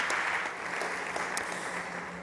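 Audience applause for a startup pitch on a South Summit stage, dense steady clapping from a crowd that eases slightly toward the end, with a few crisp individual claps.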